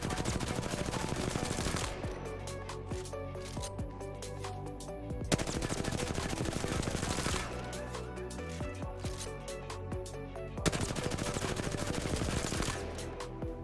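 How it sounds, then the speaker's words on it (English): Rapid automatic gunfire in a video game, three full magazines emptied back to back: loud, continuous bursts broken by two short pauses between magazines. "start to shoot 3 full magazines right next to each other"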